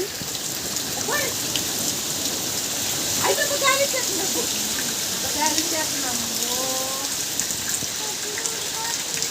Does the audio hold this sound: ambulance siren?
no